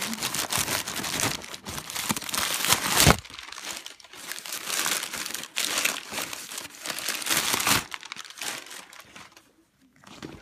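Packing paper crinkles as it is pulled from inside a Petunia Pickle Bottom boxy backpack, close loud bursts of crumpling and rustling in several waves separated by brief pauses.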